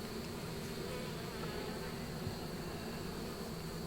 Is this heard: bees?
yes